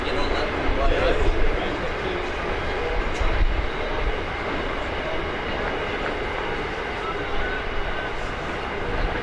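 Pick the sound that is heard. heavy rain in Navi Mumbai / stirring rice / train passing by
train passing by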